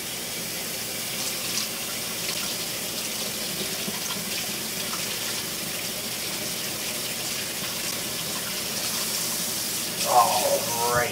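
Tap water runs steadily into a sink while something is rinsed under the stream, a continuous close hiss with a brief splashier burst near the end.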